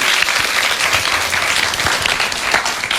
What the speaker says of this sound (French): On applaudit très fort, maman.